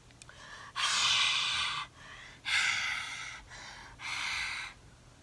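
A voice imitates heavy panting of a monster in a children's story read aloud: three long, breathy rasping exhales close to the ear, separated by brief pauses, with no words.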